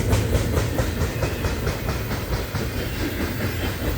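A manifest freight train carrying maintenance of way equipment rolls past close by, a loud, steady roar with a rapid, rhythmic clickety-clack of wheels over rail joints.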